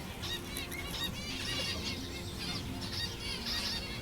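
Fluttering wingbeats of small birds over a steady outdoor background, with faint chirps and a continuous low rumble.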